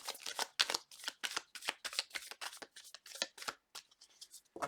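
Tarot cards being shuffled by hand, a rapid series of crisp riffling bursts in quick rhythm, close and fairly quiet, with brief pauses between riffles and no speech.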